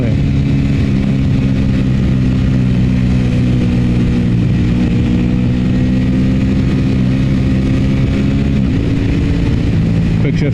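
An Aprilia RS 660 motorcycle with a quick shifter accelerates hard, its engine holding a loud, steady high-revving drone with layered harmonics and a brief dip near the end as it shifts, close and continuous throughout.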